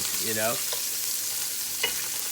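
Salty sausage fries in a pan for a seafood feijoada, giving off a steady close hiss of sizzling fat with a couple of light clinks and no speech.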